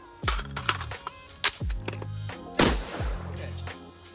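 AR rifle fire with an EOTech sight: several sharp, loud individual shots ring out at uneven intervals, each followed by a brief echoing decay, with no talk over them.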